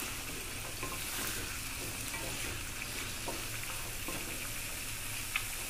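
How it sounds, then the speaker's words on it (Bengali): Green beans frying with chicken skin in a pan over a medium-high gas flame, a constant close sizzle with soft stirring scrapes and an occasional light tick of the utensil. "গ্যাসের ফ্লেমটা মিডিয়াম টু হাইতে দিয়ে শিম সহ ছাল খুব ভালো মতো ভেজে নেব"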